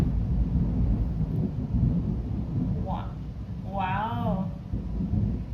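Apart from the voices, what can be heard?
thunder booming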